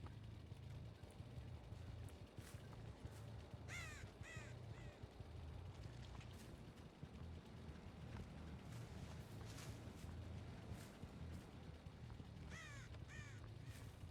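Crows caw repeatedly in Dead by Daylight, several clusters of harsh calls at mid distance over a constant low rumbling ambient bed, with no talking.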